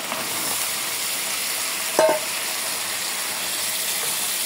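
Taro stolons go into oil-fried spice paste with a steady low sizzle throughout, plus a brief louder stir or clatter near the middle, with no talking.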